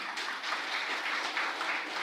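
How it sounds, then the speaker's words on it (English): Hall crowd at an international rehabilitation forum in Lviv gives a mayor a brief round of applause, with packed, even clapping that stays at a moderate level for about two seconds. "Let's applaud to the mayor of Skadovsk."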